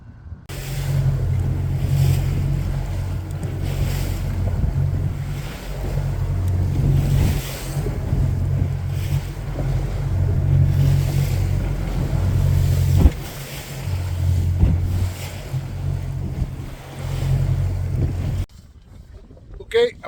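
Wind howls across the microphone from aboard a small fishing boat on rough Oneida Lake, where two- and three-foot waves slap the hull in a rolling rhythm, loud and continuous, with someone talking over it.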